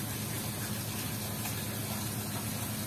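Cloudy water and patchouli oil gushing forcefully from a distillation outlet into a collection tank, a dense, steady rushing splash close by with no talking.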